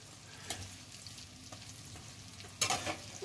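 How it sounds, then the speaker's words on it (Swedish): Food seasoned with allspice and white pepper frying in a pan, a steady soft sizzle with a few sharper scraping and stirring bursts, close and moderately loud, no talk. "Så nu ska det här få steka."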